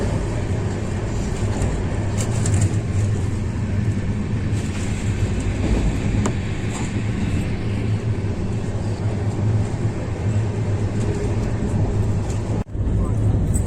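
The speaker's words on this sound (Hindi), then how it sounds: "यहाँ पे पंजाब मेल का ओवरटेक हो रहा है 12137 पंजाब मेल" Gatimaan Express overtaking the 12137 Punjab Mail between Jhansi and Gwalior, heard from inside the moving train: a steady, loud rumble of wheels and carriage noise throughout, with one brief dip near the end.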